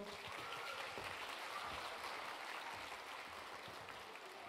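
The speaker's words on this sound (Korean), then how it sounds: "뜨거운 박수로 환영해 주십시오" An audience at the opening ceremony of a science and creativity festival applauds to welcome a VR performer, a dense, steady wash of clapping that holds throughout.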